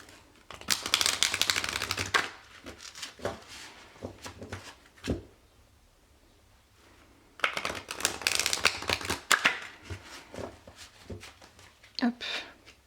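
Large oracle cards being shuffled by hand: two long bursts of riffling, flapping card noise separated by a quieter pause, with someone speaking between and over them.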